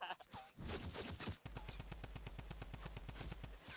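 Rapid automatic gunfire in Fortnite, with a short burst followed by a long, evenly spaced stream of loud, close shots.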